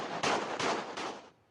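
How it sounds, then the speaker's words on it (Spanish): Gunshots fired during a shooting, three or four loud, rapid blasts in quick succession that fade into quiet, with no talking. "Descargan varios balazos"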